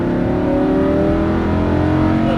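A Lamborghini Huracan LP610-4 accelerates at full throttle, its loud, close engine roar climbing steadily in pitch through the gear.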